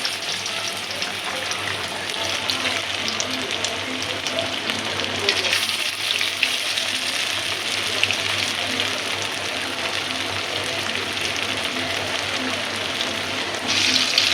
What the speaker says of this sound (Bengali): আলু দিয়ে চিংড়ি মাছ ভাজা ভাজা